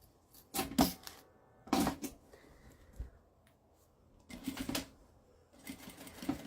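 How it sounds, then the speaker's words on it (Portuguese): Sewing machine stitching a strap on a small handmade bag, four short bursts of rapid stitching separated by quiet pauses with faint handling clicks, close and moderately loud. "Costurei, levanto o calcador, viro 2 pontinhos, ou foi 3."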